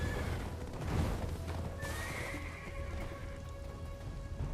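Horse in the Black Desert game whinnying, a clear neigh rising at about two seconds over soft hoof clip-clop and pattering rain ambience, moderately close and quiet overall.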